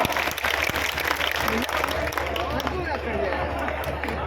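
A crowd at a political rally in a Rajasthan village applauds continuously, a dense wash of clapping mixed with chatter and a loud background hum.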